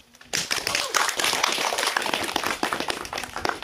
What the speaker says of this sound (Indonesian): Nah, itu luar biasa, tepuk tangan.